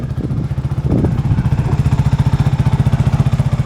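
A dirt bike engine runs close by with a rapid, even chugging pulse that grows steadier and more pronounced after a brief rougher start, with no voices.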